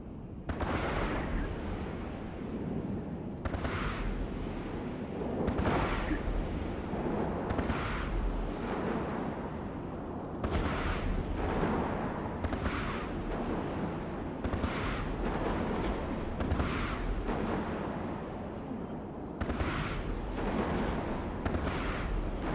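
Repeated rocket launches and explosions in EVE Online space combat, a steady stream of loud booming bursts every second or two over a dense rumbling backdrop.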